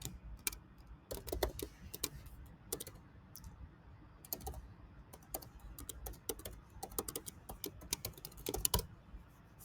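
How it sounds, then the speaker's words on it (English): Rapid, uneven clicking of keys on a computer keyboard, with bursts of keystrokes and short pauses, close by and fairly quiet, no voices. "typing in the password"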